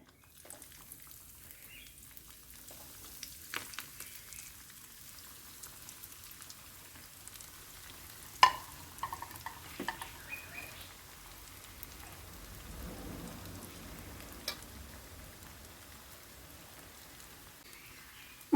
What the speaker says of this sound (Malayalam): കട്ട്ലറ്റ് ഉണ്ടാക്കാൻ ഞാൻ എണ്ണ ചൂടാക്കാൻ വെച്ചിട്ടുണ്ട് ഇതിലേക്ക് നമുക്ക് ഓരോന്നായിട്ട് ഇട്ട് കൊടുക്കാം